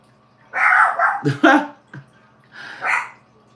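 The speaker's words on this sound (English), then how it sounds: "I'm in here with all this barking and stuff" A dog barks at home in several loud, close bursts, with short yips and gaps between them.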